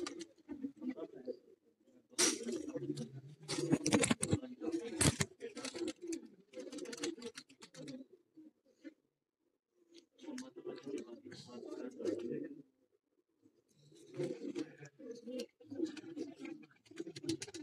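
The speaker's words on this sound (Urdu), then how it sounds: "یہ سیالکوٹ کے کبوتر ہیں." Sialkot pigeons coo in soft repeated bursts on a rooftop, with flapping and clattering in between, and occasional nearby noise.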